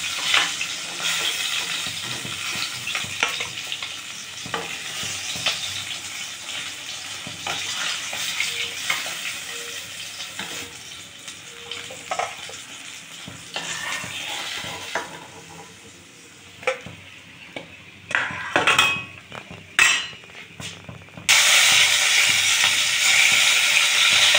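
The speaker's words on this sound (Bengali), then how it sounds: "মাছটা ভাজা হয়ে গেছে, এবার তুলে দিচ্ছি।" Rohu fish pieces fry in a pan, an uneven sizzle with scraping and handling clatter that drops away, then returns loud and sharp for the final seconds.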